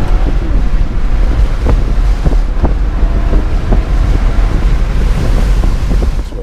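Driving a 2018 GMC Yukon XL with the windows down: a loud, constant roar of rushing wind and road noise with low rumble and faint thumps, steady throughout with no voices.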